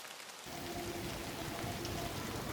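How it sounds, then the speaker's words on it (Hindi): Heavy rain pours in Riyadh, a dense steady hiss of drops hitting surfaces that comes in abruptly after a brief quieter moment and then continues evenly and close. "बारिश।"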